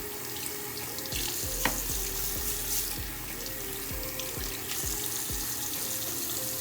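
Water runs steadily from a tap into a sink while brushes are rinsed beneath it, a continuous close splashing rush with faint periodic low knocks and no talk.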